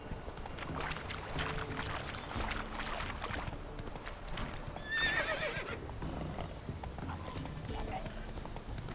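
Roach the horse in The Witcher clops steadily over rocks, the hooves a continuous rhythmic patter, with a brief whinny rising in the middle; someone talks over it throughout.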